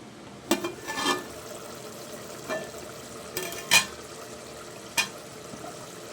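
Onions for mutton pulao being stirred in a cooking pot, a few separate scraping strokes with soft sizzling between them, close and with no talk.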